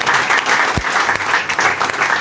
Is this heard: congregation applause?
yes